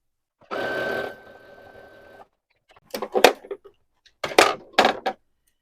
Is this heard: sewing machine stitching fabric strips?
yes